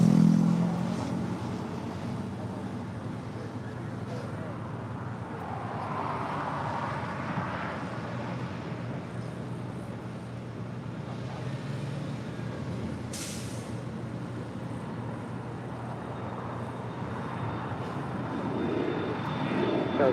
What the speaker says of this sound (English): Coming in from SFL, Alaska Airlines flight 1308 on this A321neo.